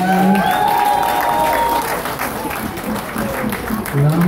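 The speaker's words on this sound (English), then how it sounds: "So give them a round of applause," Wedding guests applaud at a reception as the couple makes their entrance, a steady, loud wash of clapping filling the whole stretch with some crowd noise and tonal music mixed underneath.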